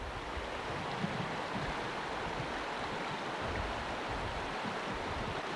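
Floodwater flowing across a desert wash during a 1992 flood, a continuous broad rushing roar with wind buffeting the microphone.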